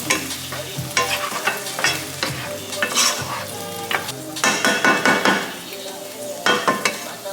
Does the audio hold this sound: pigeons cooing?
no